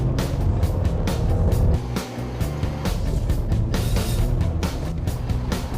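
A 2015 Subaru Legacy racing on a course, its engine revving hard through rapid gear changes with a brief dip before climbing again, loud and close throughout.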